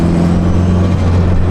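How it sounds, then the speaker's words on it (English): Turbocharged Honda S2000 AP2 with a Greddy turbo runs steadily and loudly, a continuous engine drone with a faint fluttering hiss over the top, no voices. "It's hard to ignore that turbo because it is just making such good noises all the time."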